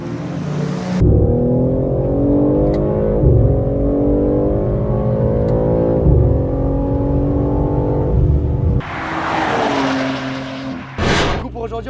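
A BMW M3 G80 accelerates hard on a race track, its engine loud and close, climbing through rising revs with brief gear-change dips, followed by a burst of rushing noise at the end.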